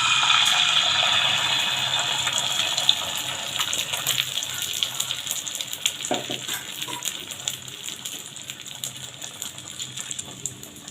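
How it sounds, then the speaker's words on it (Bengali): Eggs frying in hot oil in a wok, a loud, continuous crackling sizzle with dense spitting pops that eases slightly over time. "এবার ডিমগুলো ফ্রাই করে নিব।"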